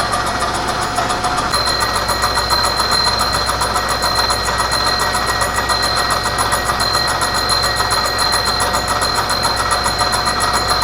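A milling machine set up to deck a tough Japanese cast iron engine head at low RPM, giving a steady, loud grinding whine with faint high tonal ringing that runs unbroken throughout.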